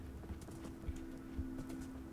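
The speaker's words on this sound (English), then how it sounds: "My horse is about to run away." Horse hooves clip-clop at a steady walking pace in a medieval farming video game, soft and fairly close, with low rumbling game ambience and a sustained tone underneath.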